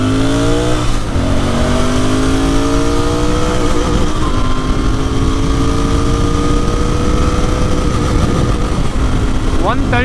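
A BS6 Royal Enfield Interceptor 650 motorcycle with a 650cc engine accelerates on the open road. Its rising engine note climbs steadily through the gears, loud and close over constant wind rush.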